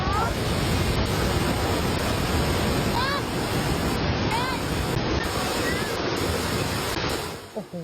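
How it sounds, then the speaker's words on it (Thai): A flash flood pours down Sarika Waterfall in Nakhon Nayok province, Thailand, making a loud, steady roar of rushing water that fills the scene without pause. "มีมวลน้ำป่ามห าศาลไหลลงมาจากน้ำตกสาริกาที่จังหวัดนครนายกครับ"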